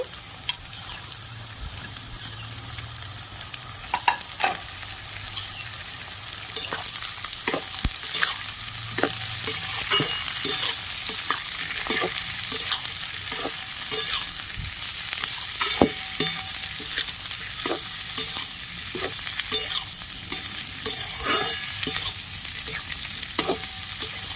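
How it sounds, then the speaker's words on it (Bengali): Shredded cabbage is stir-fried for egg fried rice. A steady, moderately loud sizzle runs under frequent sharp spatula scrapes and clicks against the pan, repeating irregularly throughout. "কুচিয়ে রাখা বাঁধাকপি দিয়ে দিচ্ছি"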